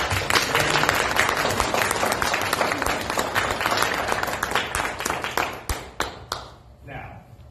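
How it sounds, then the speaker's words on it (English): Crowd applause at a Pride fundraiser, dense clapping that thins out into scattered individual claps and fades near the end, with a voice beginning to speak. "we should give her a round of applause and applaud for stepping up"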